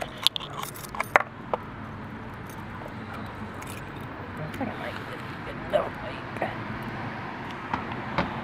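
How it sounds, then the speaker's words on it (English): A set of keys jangles and clatters in several sharp metallic bursts near the start, then a few fainter clinks follow as they are thrown, against a steady indoor background murmur. "I'm just gonna like chuck keys at him."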